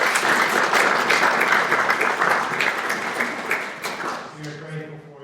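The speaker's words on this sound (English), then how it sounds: "Let's give her a round of applause." An audience at a refugee services presentation gives a round of applause, many hands clapping steadily and fairly close, tapering off as a voice begins speaking over the fading claps.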